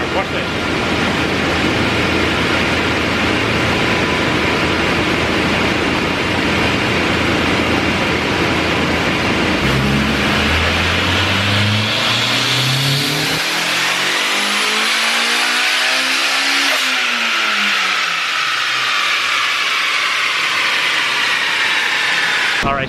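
Honda S2000 fitted with a V6 and turbo, engine revving hard as boost builds, pitch sweeping up then dropping, loud and close with wind noise throughout.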